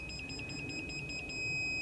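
An electronic level detector used while installing floor joists for a tiny cabin, beeping in a quick, even run of short tones that merges into one steady solid beep, fairly close and clear over low background noise.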